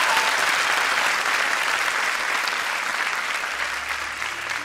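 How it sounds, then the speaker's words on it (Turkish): A studio audience at a Turkish comedy sketch show claps loudly and continuously, a dense even wash of applause lasting the whole few seconds. "kocaman bir alkış daha alacağız"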